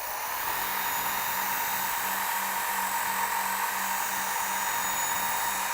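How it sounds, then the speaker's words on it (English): A Work Sharp Ken Onion Edition knife and tool sharpener runs at high speed while grinding a tool, giving a steady, loud, continuous whirring whine with a faint low hum and no pauses or speech. "Use a high speed and bring the sharpener to the tool."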